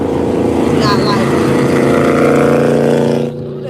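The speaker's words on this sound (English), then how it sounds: "that truck was loud" A loud truck rolls past nearby with a heavy, roaring engine that swells and holds strong before cutting away sharply near the end.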